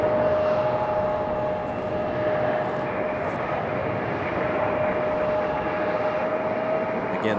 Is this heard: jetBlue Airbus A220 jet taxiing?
yes